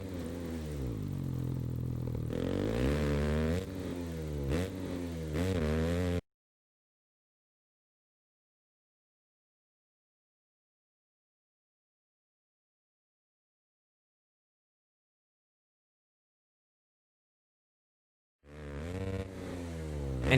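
Husqvarna 701 motorcycle engine revs and shifts pitch in Monster Energy Supercross 3, loud and close, cutting to a long silence before revving again at the end.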